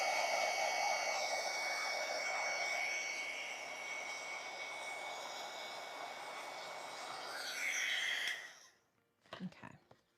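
Hair dryer blowing steadily on butterfly artwork, a loud continuous airy whoosh that holds for about eight seconds before cutting off, followed by a few faint handling knocks.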